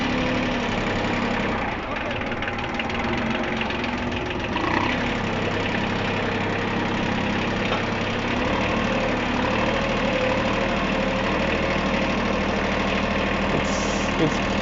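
A tractor engine idles and chugs steadily in first gear while crawling slowly, a loud continuous low rumble with a faint knock throughout.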